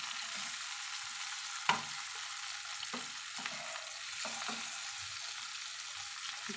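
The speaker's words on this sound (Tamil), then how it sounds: "அந்த காய் வந்து நம்மளுக்கு நல்லா சாஃப்டாக எண்ணெயிலே வெந்துருங்க" Bitter gourd pieces fry in hot oil in a pan, a steady close sizzle broken by several brief stirring scrapes, with no talking.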